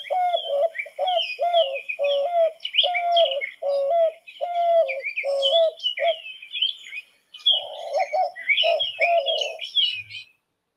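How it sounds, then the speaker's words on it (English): A white-winged dove repeats a rhythmic series of hooting coos in steady phrases, close and clear against a quiet background, with a brief pause partway through. "So that was the song of the white-winged dove."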